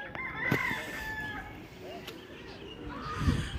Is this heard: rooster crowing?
yes